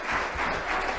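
Audience at a legislature hearing bursts into brief, dense applause, a short steady wash of clapping from a crowd in the room.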